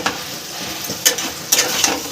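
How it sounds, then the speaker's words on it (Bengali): Boiled potatoes with capsicum fry in spices in a pan, giving a steady soft sizzle broken by a few sharp scrapes of a spoon stirring against the metal, close and clear with no talking. "এবার আলুটাকে একটুখানি ভাজা ভাজা মতো করে নেবো মানে ভালো করে আর কি মশলার সাথে কষিয়ে নেবো"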